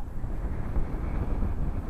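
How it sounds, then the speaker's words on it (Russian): Steady broadband wind rumble from a strong wind buffets the microphone throughout, on a boat while winter pike fishing, a continuous low roar with no voices. "Ветер сильный очень"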